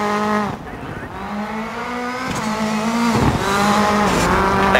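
Rally car engine in DiRT 4 droning with shifting pitch as metal grinds and scrapes, a harsh rubbing noise continuing under the roar, near and loud.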